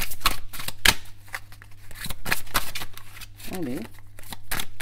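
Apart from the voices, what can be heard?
shuffling tarot cards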